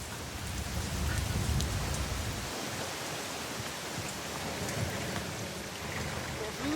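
Rain pours steadily during a night storm in Athens, a dense, even hiss with a heavy low rumble that eases after a few seconds, continuing without pause and with no voices over it.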